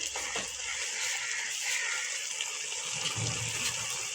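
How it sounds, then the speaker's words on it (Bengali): Water pours into a pan of cooked-down potato curry with tomatoes, a steady rushing gush filling the whole stretch at close range, with no talk over it. "এখন আমি জল দিয়ে দেবো।"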